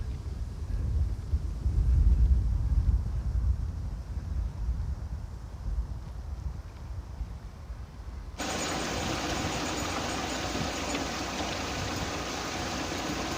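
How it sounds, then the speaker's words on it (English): Wind gusting across an open canal-side reservoir at Marsworth, a steady low rumble that swells early on, then turns into a brighter, hissing rush partway through as the gusts strengthen against the microphone. "There's a lot of wind coming across here."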